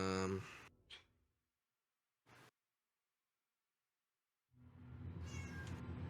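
A voice imitates a cat meowing during a tabletop fantasy game session, with voiced meow-like sounds at the start and end, separated by near-silence and a short click.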